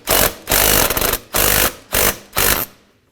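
A 10mm socket on a tool loosens an intake hose clamp on a 2015-2019 Hyundai Sonata, making five loud, close, buzzing ratcheting bursts of about half a second each, separated by short gaps.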